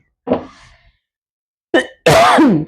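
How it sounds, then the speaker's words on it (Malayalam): A woman coughs in a home kitchen while cooking a coconut curry: one short cough burst, a pause, then two louder, harsher coughs close to the microphone. "ചുമയാട്ടോ എനിക്ക്"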